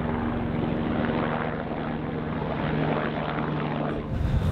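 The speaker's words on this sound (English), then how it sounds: "We see quite a few helicopters going past us each day." A helicopter's rotor thumps in a fast, even pulse on the Everest Base Camp trek, a steady roar drifting by at moderate distance with no one speaking.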